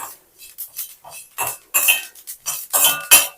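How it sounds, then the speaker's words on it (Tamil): Metal utensil scraping and clinking against a pan as nigella seeds are stirred and roasted dark, in irregular bursts of rattling and scratching. "நல்லா கருமையா வறுத்து எடுத்தாச்சு"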